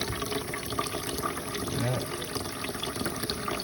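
Tap water running into a cooking pot for beans, a steady broadband rush that continues throughout, with faint background talk.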